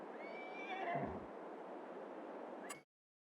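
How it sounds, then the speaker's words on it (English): Horses whinnying at a horse farm in the Farming Simulator 22 video game: a loud, close neigh with a wavering pitch, ending in a short snort before cutting off. "12 horses available in here."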